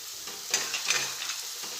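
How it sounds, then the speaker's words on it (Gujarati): Garlic sautéing in a pan for a Gujarati dungaliyu onion dish, with a soft steady sizzle and a few scraping stirs, close and fairly faint. "આપણે સતત ચલાવતા રહી અને સાતળી લઈશું લસણને પણ"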